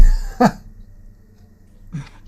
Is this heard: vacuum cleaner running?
no